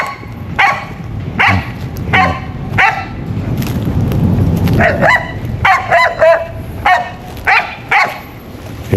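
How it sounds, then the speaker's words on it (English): A dog in a rural yard in St. Thomas, Jamaica barks repeatedly and close by: a string of sharp barks, a brief pause filled with low rumbling noise, then a quicker run of barks to the end. "take no notice of that dog guys"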